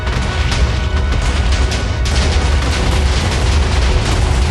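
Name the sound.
explosion in Minecraft video game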